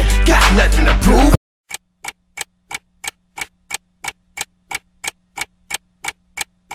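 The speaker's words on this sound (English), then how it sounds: "you hear the clock ticking" A song's clock-ticking section: a short burst of music gives way to about eighteen crisp, evenly spaced ticks. The ticks are loud and close, with silence between them.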